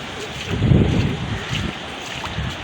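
Strong wind buffets the microphone on a lakeside jetty where fishing is underway, heavy rushing gusts swelling and easing over the water in loud, close bursts with no talking.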